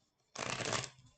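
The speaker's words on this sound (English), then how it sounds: "I usually shuffle until they come out, but I was called to cut them" Tarot cards shuffled during an October reading, a dense riffle of papery flutter lasting under a second, starting abruptly after near silence and fading out, close and clear with no talking.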